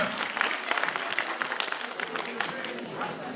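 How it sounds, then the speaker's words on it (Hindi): Audience at a school talent competition applauds to welcome a children's team from Kids Garden Jharia, dense crowd clapping sustained throughout, moderately distant, with voices murmuring underneath. "जोरदार तालियों से आपका अभिनंदन।"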